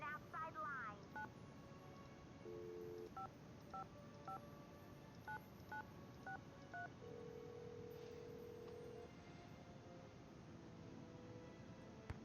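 Telephone keypad tones from the Nancy Drew game Secret of the Scarlet Hand: a quick run of dialing beeps, then a steady pattern of paired tones and a longer held tone over a soft background, with faint voices underneath.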